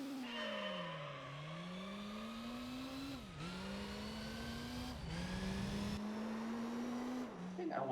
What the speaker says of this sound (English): now we have the old Gillet Vertigo race car from 1997.